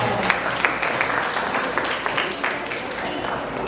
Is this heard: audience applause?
yes